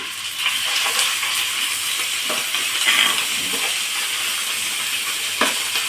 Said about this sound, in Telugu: ఇప్పుడు అల్లం వెల్లుల్లి పేస్ట్ వేసుకుందాము